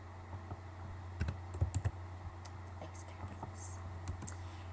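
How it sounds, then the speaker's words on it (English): Someone types code on a computer keyboard, giving soft, close key taps in short clusters over a steady low electrical hum, with a brief faint voice at most. "helps if you type the word image"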